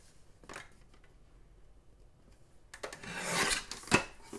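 Trimming a wooden box piece produces a brief scrape near the start, a quiet lull, then a louder run of close, rasping cuts that swells and ends with a sharp stroke.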